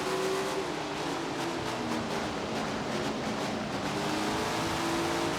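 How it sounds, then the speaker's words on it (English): Sprint car engine in Tony Stewart's Sprint Car Racing game, loud continuous revving with throttle lifts and braking, steady and close with no talk. "You'll hear us, hitting the brakes. We'll be jumping out of the throttle here and there"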